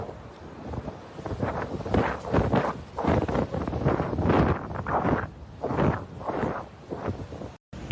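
Strong wind roars and gusts through a forest fire zone in Argentina, surging in broad waves with rushing, buffeting noise and a brief dropout near the end.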